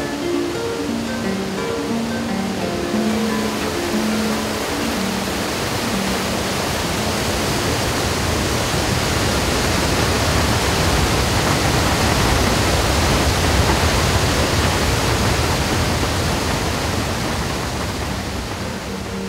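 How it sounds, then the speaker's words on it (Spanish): Iguazu Falls roars as a waterfall, a dense, steady broadband rush that holds at full loudness throughout with no voices. "Al llegar al barranco, cada uno de ellos da lugar a un salto, constituyendo en su conjunto el maravilloso escenario de las cataratas."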